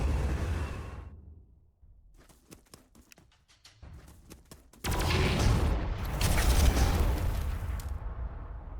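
Artillery fires in a Warhammer 40000 battle game: first a muffled rumble, then a rapid run of sharp thuds, and after that a loud, dense roar of explosions that carries through to the end.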